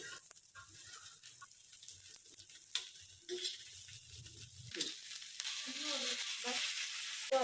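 Green chillies sizzling and frying in a pan while making paneer chilli, a faint steady crackle and hiss with occasional stirring, quiet and close, with some talk in the background.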